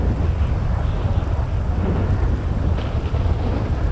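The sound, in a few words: thunderstorm with rain in video game GTA 5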